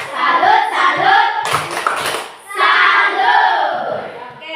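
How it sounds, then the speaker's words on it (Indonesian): A classroom group claps for a presenting group, a loud burst of hand applause with a rhythmic chanted cheer from the students, pausing briefly midway before resuming. "Tepuk tangan dulu buat kelompok 1"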